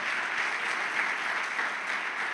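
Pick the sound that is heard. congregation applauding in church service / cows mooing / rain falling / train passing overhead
congregation applauding in church service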